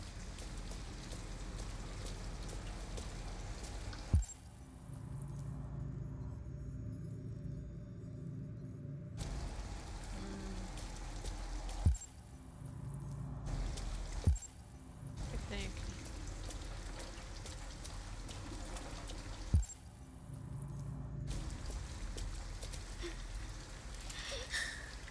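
Steady rain hissing through a night scene in the video game Detroit, with broadband wash and low rumble continuing under intermittent spoken dialogue, broken by a few sharp cuts and brief quieter gaps.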